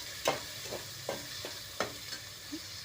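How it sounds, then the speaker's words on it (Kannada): Vegetable pulao masala frying quietly on a low flame, a soft faint sizzle punctuated by several light stirring taps and scrapes at irregular intervals, close by with no talking. "ಹಸಿ ಸ್ಮೆಲ್ ಹೋಗೋವರೆಗೂ ನಾವು ನೀಟಾಗಿ ಕಡಿಮೆ ಉರಿಯಲ್ಲೇ ಫ್ರೈ ಮಾಡ್ಕೋಬೇಕಾಗತ್ತೆ"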